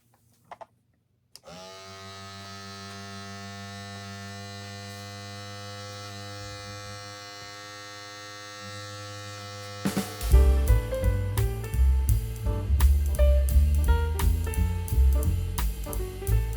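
A BaByliss x Tomb 45 hair trimmer, fully charged and held in a clamp, switches on at low speed with a steady, close, high-pitched electric buzz rich in harmonics. After about nine seconds a much louder, pulsing sound takes over.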